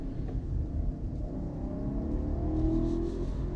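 BMW X7 with a turbocharged 4.4-liter V8 driving, a steady low engine rumble that builds slightly as it accelerates, heard from inside the vehicle with no talking.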